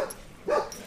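A dog gives a single short bark at crows, close and fairly loud, with faint background noise around it.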